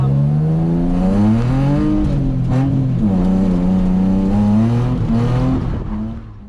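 A Nissan 350Z engine revs hard and loud while drifting, rising and falling through the throttle in sustained surges before easing off at the end.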